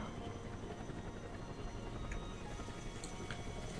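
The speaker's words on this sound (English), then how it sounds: "Heavy lift helicopter here." A heavy lift helicopter in the strategy game Broken Arrow rumbles steadily throughout, a continuous low rotor drone with faint clicks on top and no speech.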